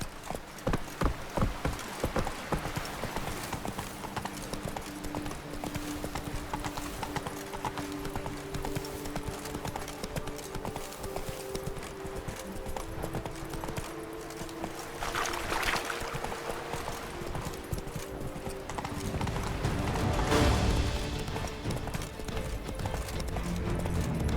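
A horse gallops in The Witcher 3 video game, with a fast, steady run of hoofbeats close by that continues the whole time, growing louder and splashier toward the end.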